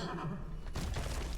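A horse in the video game Wuchang: Fallen Feathers lets out a single loud neigh, a wavering whinny close up followed by a brief snort.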